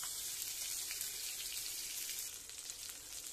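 Spice paste for a magur fish curry with vegetables sizzles and fries steadily in a pan, a continuous close hiss with no voices over it.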